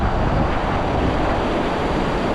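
Rising floodwater in a river rushes loudly and steadily in a dense, roaring wash, with heavy wind buffeting close to the microphone.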